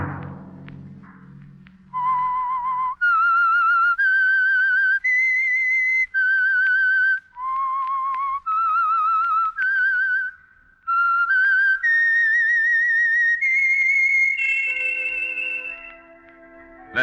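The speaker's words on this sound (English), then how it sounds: "Let that whistle be your signal for the Signal Oil program, The Whistler" A lone human whistler performs the theme signal of The Whistler radio program, a clear, close melody of sustained pure notes rising step by step in phrases with short breaths between, ending on a falling tone.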